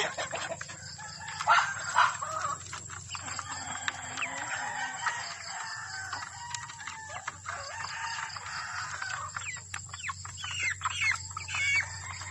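Sasso chickens on a backyard farm cluck and call repeatedly, with scattered peeps and short squawks, fairly close, over a steady low hum.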